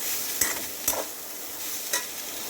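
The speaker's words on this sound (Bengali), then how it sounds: "এবার এটাকে উচ্ছে আলুর সাথে ভালো করে মিশিয়ে দিতে হবে।" Poppy seeds stirred into bitter gourd and potato frying in a pan, a steady sizzle broken by three distinct scraping strokes of a spatula at roughly half-second and one-second gaps, with no voices.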